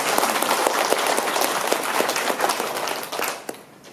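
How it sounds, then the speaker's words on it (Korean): A church congregation at a Korean memorial reunification worship service breaks into sustained applause, dense close clapping that holds steady and then tapers off near the end. "우리 박수 한번 보내주시기"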